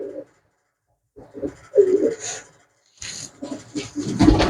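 Pigeons coo close by in several low, throaty bursts separated by short pauses.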